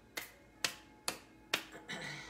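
Four sharp, evenly spaced hand claps ring out close and bright during a tapping meditation, each with a short decay, followed by a softer shuffling sound.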